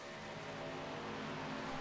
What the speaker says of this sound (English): 4-car pack down the back stretch up the speed